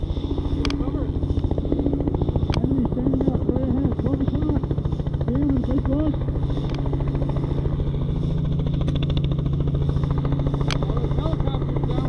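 Helicopter flying over an outdoor airsoft field, a steady, loud rotor and engine drone with a fast rhythmic chop that holds throughout, while players' voices come and go over it.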